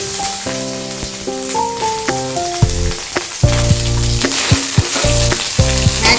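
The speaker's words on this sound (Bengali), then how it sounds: "ভালো করে একটু কষিয়ে নিতে হবে।" Ginger paste and a dried red chili sauté in a pan, giving a steady close sizzle with occasional stirring clinks under a melodic musical backing.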